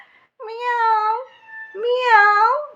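A domestic cat meows twice, each call long and drawn out, close and clear with a short gap between.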